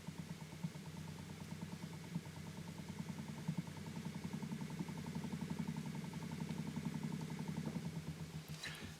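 An exercise bike rigged as a generator spins up with a steady mechanical whir and rhythmic clatter that builds gradually in intensity, fairly faint, ending with a small knock near the end.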